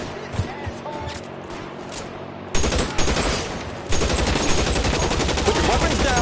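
Rapid gunfire in the L.A. Noire video game as a full magazine is emptied at an enemy, with scattered shots first, then loud, dense continuous firing.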